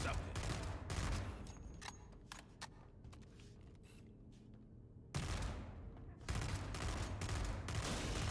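Heavy gunfire in Halo: Campaign Evolved on Legendary difficulty, dense volleys and rattling bursts that thin out to scattered shots before surging back loudly, with some talk underneath.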